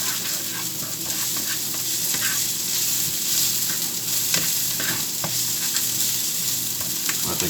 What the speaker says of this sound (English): Keep on frying it.